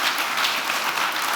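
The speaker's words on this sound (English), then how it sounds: "That's a good applause." Audience applause at the close of a talk on the global energy crisis, a dense steady wash of many hands clapping together, fairly loud and continuous throughout.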